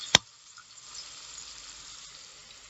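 Tomatoes for egg bhurji hit hot oil in a pan with one sharp clatter, then a soft, steady sizzle close by that fades slightly over a couple of seconds.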